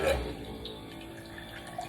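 Water from a filtered water dispenser runs steadily into a small cup, a soft continuous trickle with no voices.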